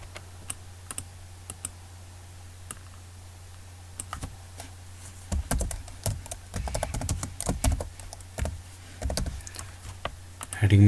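Rapid keystrokes on a computer keyboard as a file name is typed into a Microsoft Word 2007 header, clicking in uneven bursts that grow busier over a steady low hum.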